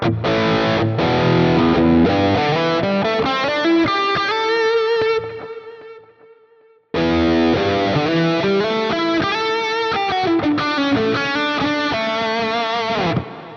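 High-gain electric guitar lead tone from a preset on a Quad Cortex, biting distorted notes ringing out, one long held note fading nearly to silence before a loud flurry of phrases resumes.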